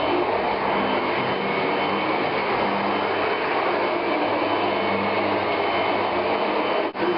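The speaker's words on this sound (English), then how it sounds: "It's remarkably easy to use this vacuum to get around really difficult obstacles" A SEBO Felix vacuum cleaner runs with a steady, loud, continuous motor whine and airflow roar while it is steered around a grand piano, with a brief dip near the end.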